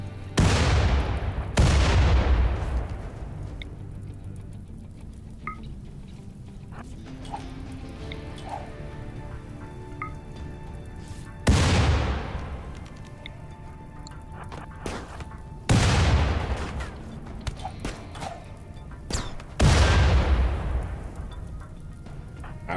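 Several huge, booming rocket blasts from a Doomsday launcher in the game RimWorld, each a sudden loud burst decaying into rumble, spaced across the clip with smaller crackling impacts between them.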